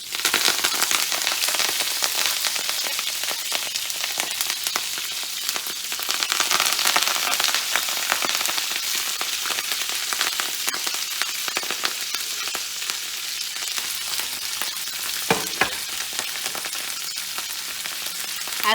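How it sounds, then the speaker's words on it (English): Kale leaves frying in grease in a pan, a loud continuous crackling sizzle with dense popping throughout, close and alone without talk. "if you have moisture on the leaves, it will pop in the grease, so be careful"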